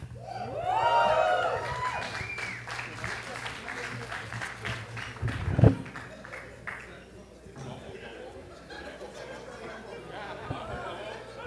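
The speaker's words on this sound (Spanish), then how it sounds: "Vamos a recibir con un fuerte aplauso a Carlos Cabrera" A comedy club audience greets a stand-up comedian with applause and chatter, a moderate crowd sound that swells briefly, then settles into murmuring.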